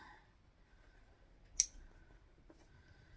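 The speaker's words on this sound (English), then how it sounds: "Then you want to trim off all of those tails." Scissors snip thread tails off freshly stitched fabric, one sharp crisp cut standing alone in a quiet room, followed by a faint softer click.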